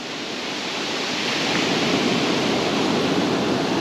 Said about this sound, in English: I'm going to wait for the wave to come in as best it can without trying to soak me.